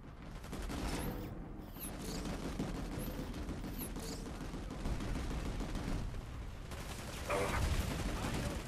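Shotgun fire in a PS4 online shooter, with repeated blasts and dense battlefield gunfire running throughout, loud and busy, some bursts nearer than others.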